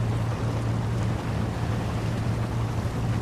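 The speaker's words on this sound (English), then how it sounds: "Engine noises are way too loud, overriding your voice a bit." Steady, heavy drone of a ship's engine in Seafarer The Ship Sim, a continuous low hum with a constant tonal throb that stays loud and even throughout, with no voices over it.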